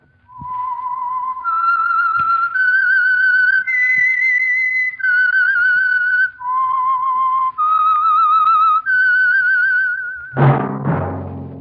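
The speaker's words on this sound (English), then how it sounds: "That whistle is your signal for the Signal Oil program, The Whistler." Whistled theme tune of The Whistler mystery radio show, a clear solo melody of sustained held notes stepping up and down, loud and close for about ten seconds before a brief orchestral chord at the end.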